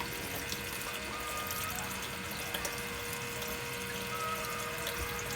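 Water runs steadily through a Blue Bowl gold concentrator, a constant close-up rushing and splashing flow like a running tap, with faint drips and a low pump-like hum underneath and no talking.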